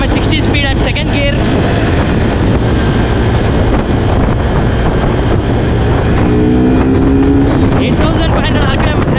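A Suzuki Gixxer 250 motorcycle engine roars loudly and steadily under rushing wind, the pitch climbing as it accelerates through the gears around 8000 RPM, with a voice speaking over it.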